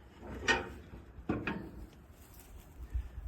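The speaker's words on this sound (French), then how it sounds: "Tu ouvres la porte, la poignée vire." A heavy steel door on a 250-gallon offset smoker opens, giving a couple of metallic clunks and a squeaky scrape as the handle turns, close and moderately loud with no talk over it.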